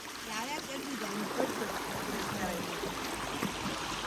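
A river flows at night, a steady broad rush of water close by, with people talking over it.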